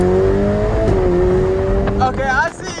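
A McLaren supercar's engine drones loudly and steadily from inside the cabin, dipping in pitch as it shifts gears partway through, with voices breaking in near the end.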